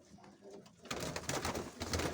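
Crested pigeons cooing and fluttering close by, a soft flurry of bird sounds growing busier after a quiet start.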